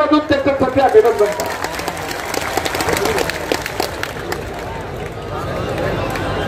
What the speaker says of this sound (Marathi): एकदा जोरदार टाळ्या वाजवून त्याच्यासाठी अभिनंदन